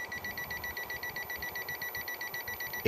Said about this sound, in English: it's beeping when it senses the AC voltage